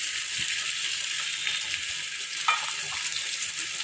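Small fish sizzle in hot spiced oil in a pan, a steady, close hiss with a few light stirring scrapes and no talking.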